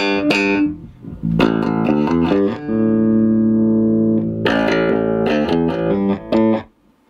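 Clean electric bass notes, a few plucked phrases with a long sustained note in the middle, dry and close, ending in silence.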